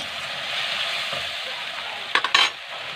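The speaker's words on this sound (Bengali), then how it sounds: "টক দইটা দিয়ে একটু নেড়ে চেড়ে দেবো।" Masala stirred with sour yogurt in a pan gives a low, even sizzle, broken near the end by a few quick scraping and clinking strokes of a spoon against the metal.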